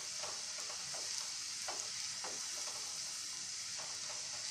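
Bitter gourd chips frying crisp in hot oil, a continuous bright sizzle with soft scattered stirring clicks, close by and fairly quiet.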